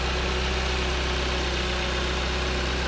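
The 2.4 liter engine of a 2014 Jeep Compass runs at a steady idle, a continuous close hum with a low throb and no talking.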